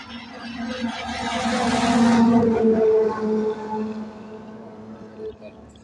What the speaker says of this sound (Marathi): अशी वाहनं बिनं हे रस्त्याने येत आहेत.